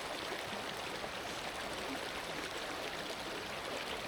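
A river stream rushes at Kanarra Falls, a constant broadband flow of water with no pauses, loud and close, heard alone without voices.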